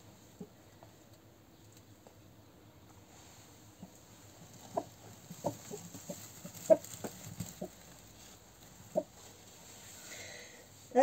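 Soft, scattered clucks from a broody hen close by as she settles onto a nest of goose eggs, irregular and quiet, with faint shuffling and a low background hum.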